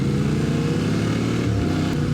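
A motorcycle engine drones steadily on a road ride, a continuous loud mechanical hum with a slight pitch shift toward the end, heard up close from a riding perspective.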